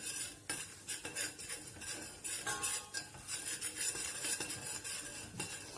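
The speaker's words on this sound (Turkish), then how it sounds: "Sonrasında irmiğimi atıyorum. Yine kavurmaya devam ediyorum." Semolina and flour being roasted in a pan for a baby's flour soup, stirred with a utensil that scrapes and clinks steadily against the pan in a quiet, close, continuous rhythm, with no voices.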